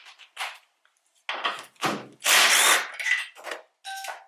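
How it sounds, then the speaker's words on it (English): A power tool spins off three 14 mm strut top nuts on a 1999 Toyota Camry during a coilover install, heard as several short, loud whirring bursts separated by pauses. "For the three nuts on top, 14 millimeter."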